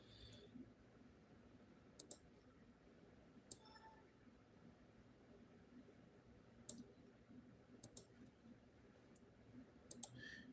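A computer mouse clicks rapidly through a series of pages, sharp, close, isolated clicks, sometimes in quick pairs, scattered irregularly over a quiet background.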